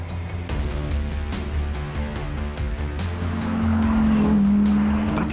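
McLaren 720S sports car braking hard, engine and road noise up close with a rising tyre squeal that holds steady near the end, no voices.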